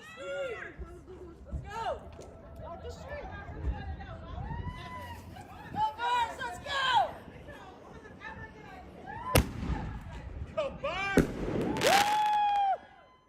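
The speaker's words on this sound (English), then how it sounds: "And this was the fireworks we lit up on one of the streets in South Philly." Fireworks set off on a street in South Philadelphia crack and whistle in scattered bursts, some loud and near, amid excited crowd chatter, shouting and talk.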